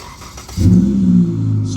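A Dodge Charger's exhaust bursts to life on a warm start after a brief quiet moment, giving a loud, deep, sustained rumble that settles into a steady idle close by.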